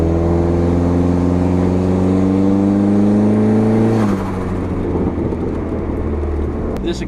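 Loud, droning exhaust of a straight-piped turbocharged SRT-4 PT Cruiser GT heard from inside while driving, holding a steady rising tone before easing off around the midpoint into a rougher, lower rumble.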